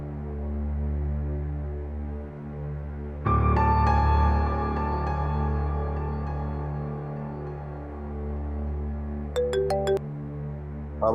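A phone call placed and left unanswered, a low steady hum with a ringing tone that starts partway through and carries on, then a few higher electronic beeps near the end, with no talking.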